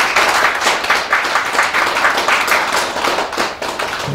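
A press-conference audience claps loudly and continuously, a dense and vigorous round of applause that fills the room for several seconds with no talking over it.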